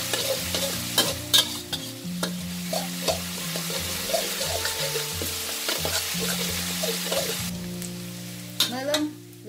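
Shallots stir-fry in oil over medium heat, a continuous sizzle broken by frequent scraping and clinking of a spatula against the pan, close by, with background music running underneath.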